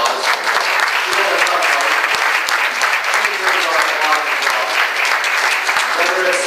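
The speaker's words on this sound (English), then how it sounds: "Please give her a round of applause." A crowd at a Conservative Party of Canada victory reception in Toronto bursts into loud, dense, continuous applause, with sharp individual claps standing out near the front.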